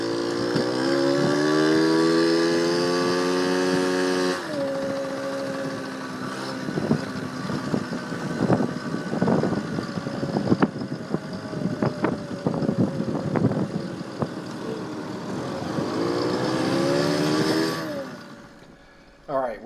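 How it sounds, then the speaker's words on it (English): A stock Honda Express NC50 moped fed micro bursts of nitrous oxide revs hard up close, drops away into a rougher, choppier stretch, then winds up again before cutting off. "stock Honda Express NC50 with a little bit of, I guess they call them micro bursts of nitrous oxide"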